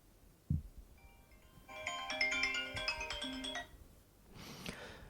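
An iPhone ringtone chimes at full volume during a speaker test: a bright, layered melodic tone rings for about two seconds after a short thump, then cuts off, followed by a faint rustle.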